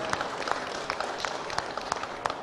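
An audience at a public dialogue on the Benoa Bay reclamation in Bali applauds, a dense, even patter of many hands clapping together from a moderately distant crowd.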